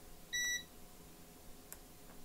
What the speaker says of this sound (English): This is beeping.